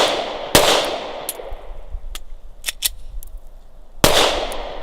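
A carry pistol fires during a tap-rack-assess malfunction drill, with two sharp, loud shots about three and a half seconds apart and small metallic clicks and handling noises between them.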